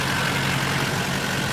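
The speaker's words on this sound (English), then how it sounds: "And then you can start the engine up." A Duramax diesel truck engine idles up close with a loud, steady low rumble and an even mechanical drone, unchanging throughout and with no voices.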